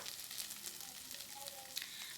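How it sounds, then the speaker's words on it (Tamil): Small chopped onions with bay leaves sauté in hot oil for a plain hotel-style parotta salna, a faint, even sizzle and crackle with soft occasional pops and no talking. "2 வெங்காயம் சேர்த்து நல்லா வதக்கிக்கோங்க"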